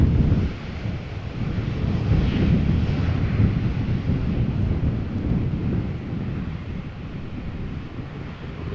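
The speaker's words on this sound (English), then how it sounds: "Just a teensy bit of reverse thrust." An Airbus A320neo lands at Amsterdam Schiphol Airport in a crosswind, using a little reverse thrust. A broad, low, sustained jet roar swells and then slowly fades, mixed with wind buffeting the microphone.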